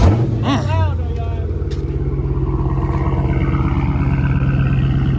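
A loud straight-piped Scat Pack Shaker engine idles with a deep, rumbling exhaust drone that holds steady throughout, with a brief rev near the start and voices underneath.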